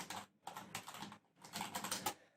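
Rapid keystrokes on a computer keyboard, typed as a spreadsheet column heading is entered, come in two close bursts of clicking separated by a short pause.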